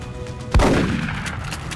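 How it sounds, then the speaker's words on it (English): A single sharp gunshot cracks out in the X-Com: Enemy Unknown video game, followed by a short decaying rumble and quiet game ambience, with no talking. "here I can shoot this guy"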